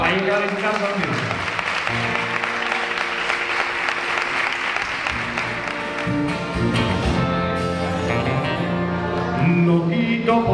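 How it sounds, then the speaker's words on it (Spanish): Audience applauding Los Sones de Cádiz at a music showcase. Loud clapping blends with the group starting to play and sing, with tonal voices and instruments rising under the applause. "Un fuerte aplauso"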